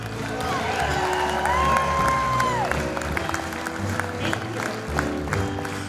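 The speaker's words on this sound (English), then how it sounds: "put your hands together, a big round of applause" Applause and cheering from the audience at a Christmas jazz concert, a broad crowd roar with scattered whoops, while a voice and a sustained sung or played tone sit briefly over it.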